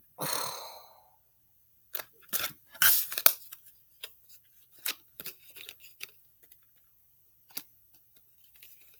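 A deck of tarot cards being cut and handled, giving a few sharp close papery snaps and taps scattered through near silence, with a brief rustle at the start.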